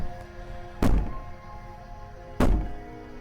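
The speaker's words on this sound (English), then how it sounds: "Bang on the door all you want, it'll only make you bleed out faster." Two heavy, hollow thuds of someone banging on a door in the video game Slay the Princess, spaced over a second apart, each loud and close with a short decay into a quiet background.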